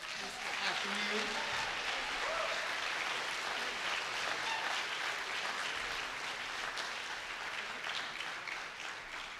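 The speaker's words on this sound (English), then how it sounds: "can we get another round of applause for all of our chamber music this afternoon?" Steady audience applause at a trombone workshop, filling the space for chamber music performers one afternoon, dense and sustained at even loudness throughout, with some voices murmuring underneath.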